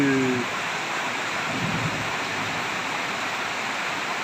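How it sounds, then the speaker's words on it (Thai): Heavy rain falls outdoors, soaking the grass, a dense, constant rushing hiss that holds steady after a short burst of voice at the very beginning. "เดี๋ยวเราฝนหยุดก่อนลูก แฉะมากๆเลย"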